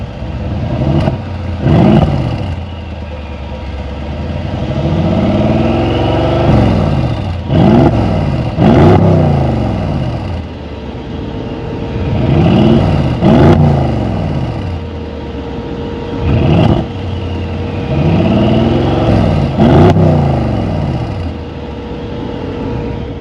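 A 2016 Mercedes-AMG GLE63 engine revs repeatedly through its AMG exhaust, each burst climbing and falling in pitch, separated by short pauses, loud and close.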